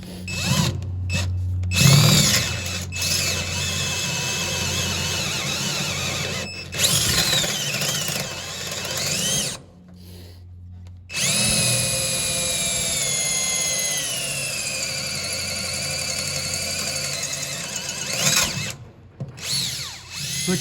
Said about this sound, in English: we're gonna go with a little bigger drill bit.